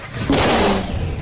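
A badly running car engine struggles and sputters in a single loud, rough burst of just over a second, with no talking over it.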